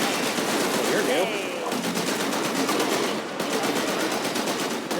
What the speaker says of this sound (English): There's so much exploding.